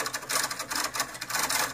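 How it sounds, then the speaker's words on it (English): A motor drives an inverted pendulum cart back and forth, making a buzzing, rattling whir that pulses in quick bursts as the controller reverses direction to keep the pendulum balanced; close and fairly loud, no talking. "to move the motor opposite direction so that it tries to balance the inverted pendulum"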